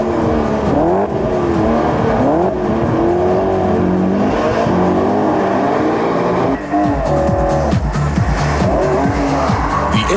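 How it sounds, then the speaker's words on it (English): BMW M3 sports car lapping a wet test track, its engine revving hard through rising and falling gear sweeps with tire squeal and skidding, loud and close throughout. "The M3 displays its good handling characteristics on the test track, particularly in wet conditions."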